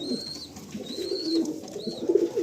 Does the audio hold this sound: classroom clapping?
no